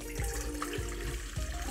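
Lukewarm water runs from a tap or pours into a pizza dough mixer bowl, a steady trickling splash with a few low gurgles and knocks, close up and without talking.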